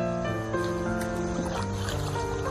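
Three-plank wooden rowboat gliding along a Mekong Delta canal lined with water palms, a steady close wash of water and hull noise mixed with a low motor-like hum throughout.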